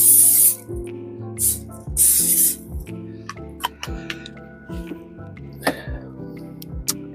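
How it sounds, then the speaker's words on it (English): Cooking spray hisses from a can in a few short bursts over keto waffle batter, followed by clinks and knocks of kitchen utensils, close by. "get our spray"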